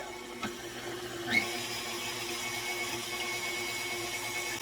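Electric mixer starting up in egg whites with cream of tartar for Italian meringue, a couple of knocks then a steady whirring hum that runs on evenly and fairly quietly.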